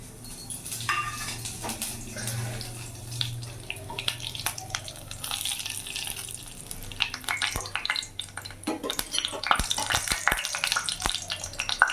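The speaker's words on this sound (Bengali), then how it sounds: "এবার এখানে আমি ফোড়নে দিয়ে দেবো গোটা জিরে তেজপাতা আর একটা শুকনো লঙ্কা" Whole cumin, bay leaf and a dried red chilli sizzling in hot oil, a dense crackling fry with scattered pops and utensil clatter that grows busier toward the end.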